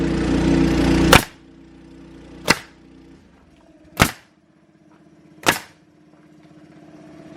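Nail gun firing ring shank nails into wood during garage ceiling and wall work, four loud sharp shots spaced over a second apart, the first cutting off a compressor-like hum, with quiet gaps between.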